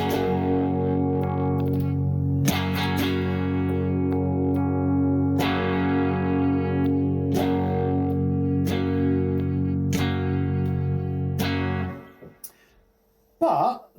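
An electric guitar through a Revelation RJT 60 pedal rings out loud, distorted chords, struck anew every couple of seconds as settings 2 and 5 are compared, then drops to near silence before a short burst at the end.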